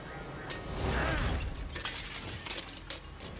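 A lantern shatters in the horror video game The Evil Within, a loud crash of breaking glass followed by scattered tinkling fragments and rattling debris.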